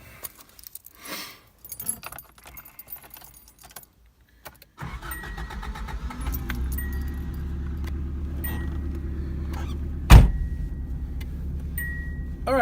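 Keys jangle and a door handle clicks on a 1985 Subaru GL wagon, five-speed 4x4 with dual range. The engine then starts and settles into a steady, close idle, with a sharp thump partway through and no talking.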